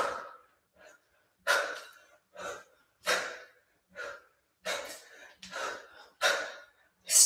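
Forceful exhales during a kettlebell swing workout, about eight sharp breaths repeating at a steady rhythm roughly once every second or so, close and clear with no talk.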